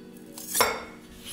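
Garlic clove squeezed through a metal garlic press while making a honey-mustard salad dressing: a single short crunching squeeze with a metallic clink, close and fairly quiet, no talking.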